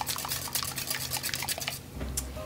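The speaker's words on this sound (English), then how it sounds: "Now I'm using the vodka, salt, butter, and I'm going to whisk." A whisk stirs vodka, salt and butter together in a mixing bowl for Polish pączki dough, giving a quick, steady run of light clinking and scraping strokes up close, with no talk.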